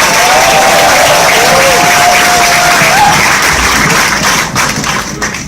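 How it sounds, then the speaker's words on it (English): A live audience applauds the cast of the series Snowfall at a season one Q&A, with steady dense clapping throughout and faint crowd noise and a brief tone over it, tapering slightly at the end. "Give the entire cast a round of applause."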